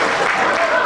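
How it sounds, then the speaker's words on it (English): Applause from the audience at a 1997 'Oskers' awards evening at Harleyford Golf Club, a steady, dense wash of clapping filling the whole moment. "he deserves a word of applause"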